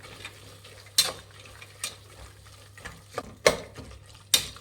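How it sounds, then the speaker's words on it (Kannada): Fresh lima beans frying in oil in a pan, stirred now and then. Sharp scrapes and clinks of a spoon against the pan rise over a faint, low sizzle, with no talking. "ಎಣ್ಣೆಲಿ ಒಂದು ಸ್ವಲ್ಪ ಅವರೆಕಾಳು ಚೆನ್ನಾಗಿ ಫ್ರೈ ಆಗಲಿ"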